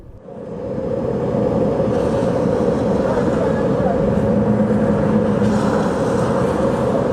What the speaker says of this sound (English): Got to leave the engine running on here.